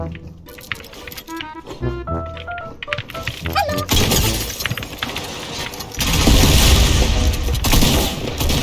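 Burst-fire quad launcher in a video game firing rapid volleys of loud explosive shots and blasts, dense and continuous with background game sounds throughout.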